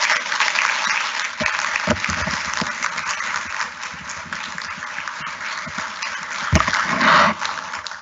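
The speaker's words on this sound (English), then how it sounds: "he more than deserves a very large" A lecture hall audience at a public scientific lecture applauds loudly and steadily. The dense clapping fills the whole stretch, with a few sharper individual claps standing out.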